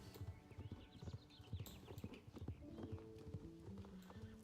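Rhythmic clip-clop of horse hooves trotting steadily in the video game Star Stable Online, close and clear, with soft game music and a voice in the background.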